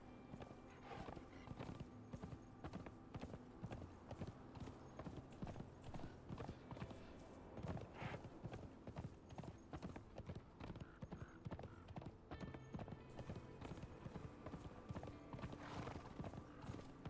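Horse hooves clip-clopping in the video game Conan Exiles, a steady brisk rhythm of hoof strikes throughout, with a brief neigh partway in and faint talking underneath.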